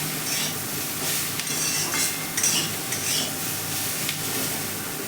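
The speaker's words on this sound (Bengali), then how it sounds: "একটু আদা লঙ্কা দিয়ে সামান্য কষে নিলাম" Ginger and chili sauté in a pan, a steady close sizzle with intermittent scrapes and clinks of a utensil stirring against the metal, continuing without talk.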